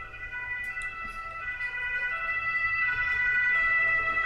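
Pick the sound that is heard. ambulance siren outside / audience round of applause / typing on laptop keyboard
ambulance siren outside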